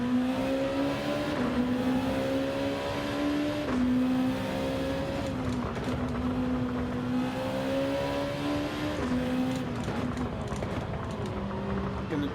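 Race car engine in Gran Turismo 7 holding a steady, droning tone that rises and falls with throttle through corners, loud and continuous, with faint talk underneath.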